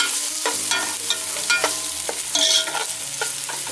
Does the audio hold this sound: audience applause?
no